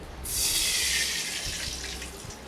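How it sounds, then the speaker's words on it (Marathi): Water gushes steadily into a metal pan for a couple of seconds, a bright rushing pour with no talking, about one and a half glasses for sugar syrup. "एक आणि अर्धा ग्लास मी पाणी ठेवले"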